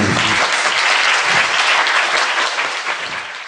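Dense audience applause in a hall, loud sustained clapping from many hands that tapers off slightly toward the end, with no speech over it.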